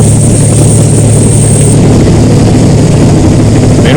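Rescue helicopter running aboard a hospital ship, a loud, steady low engine drone with rotor thrum and a high turbine whine that drops away midway.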